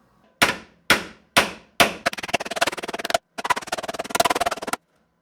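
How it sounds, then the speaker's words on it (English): Jeep Cherokee XJ sway bar end link bushings being hammered flat: four separate ringing metallic blows, then two long bursts of rapid, evenly spaced hammer strikes, loud and close with no voices. "so we have to hammer these things flat"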